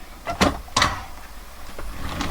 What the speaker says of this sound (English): So we also have these drawers here